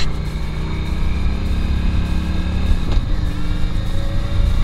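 The engine of a Honda Shadow VLX 600 motorcycle on the road, a steady, loud, low rumble close to the mic with constant wind noise and no clear revving.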